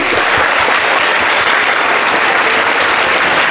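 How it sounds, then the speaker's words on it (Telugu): A school audience at a science day celebration gives teachers loud, dense applause, a continuous close wash of many hands clapping throughout. "ఈ టీచర్స్ అందరికి కూడా గట్టిగా చప్పట్లు కొట్టి"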